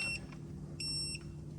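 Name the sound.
Wheellator power walker beeping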